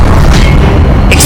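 A spell cast in a Harry Potter video game, heard as a short, loud, booming magical burst filling the whole moment, with a brief brighter flare at the very end.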